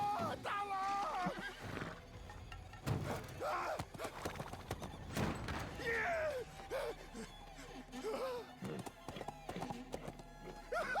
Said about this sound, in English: That's a hella muscular horse.